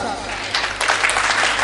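An audience applauds to welcome a school director, a broad rush of clapping that swells partway through, while a voice keeps talking loudly over the applause the whole time.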